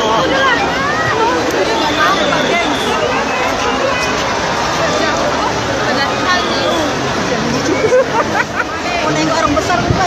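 Thousands of people packed onto the Haji Adam Malik field in Pematang Siantar make a dense, continuous roar of overlapping voices and chatter that holds steady throughout.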